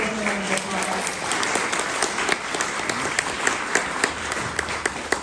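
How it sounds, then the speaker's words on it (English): An audience at a Sundance Film Festival panel in the Filmmaker Lodge gives a steady round of applause, a thick wash of clapping with some sharper individual claps, lasting several seconds at an even level. "Please give them a round of applause."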